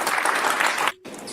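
Dense clapping from a crowd plays loud and steady, then breaks off abruptly into a brief moment of silence before starting again.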